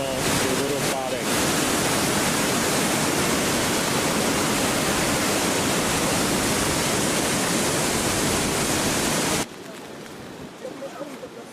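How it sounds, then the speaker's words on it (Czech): A waterfall roars steadily and loudly for most of the clip, then drops away abruptly to a quieter background, near Geiranger, Norway. "je vodopádek"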